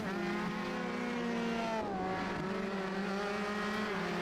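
Race cars roar past on a track, engines loud and close, with pitch sweeping down as one passes near the two-second mark and another engine tone continuing afterward.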